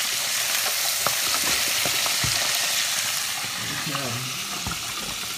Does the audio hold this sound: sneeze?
no